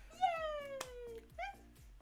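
A person imitates a cat, giving two drawn-out, falling meows in a playful cheer, close to the microphone over a soft background.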